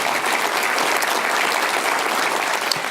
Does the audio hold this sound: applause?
yes